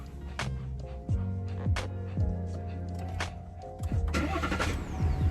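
A 2021 GMC Sierra 1500 Duramax AT4 engine cranks repeatedly without catching, with several short whirring attempts and sharp clicks and thumps between them, close by and moderately loud.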